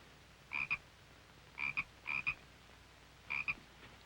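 A small frog croaks in short doubled bursts, four distinct calls spaced irregularly, close and clear over a quiet background with no voices.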